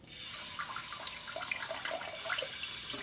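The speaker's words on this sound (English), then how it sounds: "Cold water squirting." Cold water squirting steadily from the sprayer of a hot-and-cold bidet during installation testing, a continuous hissing splash with no pauses across the moment, fairly close.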